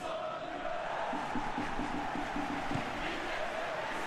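A football stadium crowd in the PES video game cheers with a steady, distant roar and a low chant rising through the middle, held at an even level throughout.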